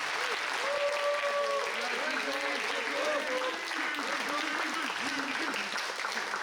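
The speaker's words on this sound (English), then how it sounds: "So big round of applause for Radley Video" An audience at a school Battle of the Bands breaks into sustained applause, broad and continuous clapping with a crowd's murmur underneath and faint voices and whistles mixed in, holding a steady level throughout.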